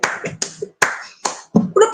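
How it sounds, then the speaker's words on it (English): An audience at a Jamaican political rally claps in short, sharp bursts separated by brief pauses, loud and close, with some voices mixed in. "Let's clap Marky G again."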